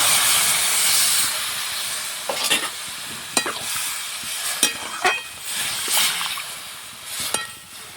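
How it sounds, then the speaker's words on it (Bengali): Water poured into a hot pan of Malabar spinach curry already fried with salt and turmeric, giving a steady sizzling hiss broken by several sharp spatters and stirring clinks. "নুন হলুদ দিয়ে কষানো হয়ে গেছে, এবার জল দিয়ে দিচ্ছি।"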